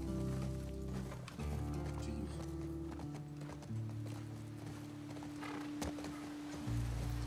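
Horse hooves gallop in a steady clip-clop rhythm through The Last of Us Part 2, heard up close and loud over a low sustained game soundscape, with a brief whinny-like sound.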